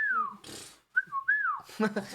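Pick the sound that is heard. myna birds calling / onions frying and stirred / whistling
whistling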